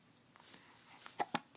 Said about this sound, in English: No more nasty hiccups.